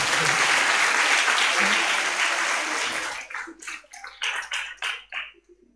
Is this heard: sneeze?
no